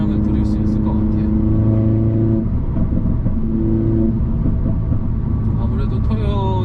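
A 2020 Mercedes-AMG CLA45 S in race mode drones steadily while cruising on a highway, a loud close cabin hum with slight pitch shifts, and someone talks over it throughout.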